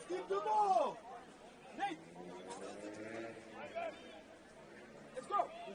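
Crowd chatter drifts from spectators at a men's football match at Kinsmen, a low, distant murmur of voices with occasional shouts, steady under a nearby commentator's speech.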